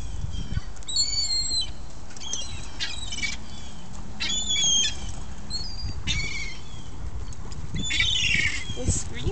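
Seagulls give repeated harsh, high screams in short bursts over a steady rumble of wind or surf, some calls near and others further off.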